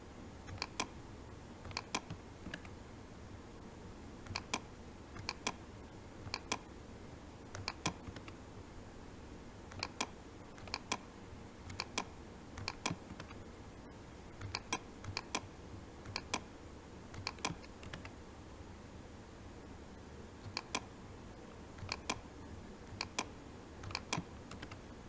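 Sparse bursts of computer keyboard typing as IP addresses are entered into server default gateway settings, with scattered clusters of crisp key clicks separated by pauses over a quiet background.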